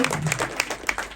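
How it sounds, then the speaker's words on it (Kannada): An audience at a Kannada film's audio and trailer launch claps in a brief, uneven burst of applause, with a voice faintly mixed in. "ಇನ್ನೊಮ್ಮೆ ಜೋರಾದ ಚಪ್ಪಾಳೆ"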